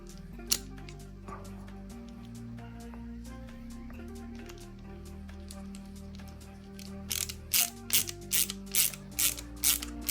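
Screws being driven into a Fanhome Toyota Supra MK4 model kit part: a near, quiet run of small ratcheting screwdriver clicks with a faint mechanical creak, ending in a rapid burst of sharper clicks, with no one talking.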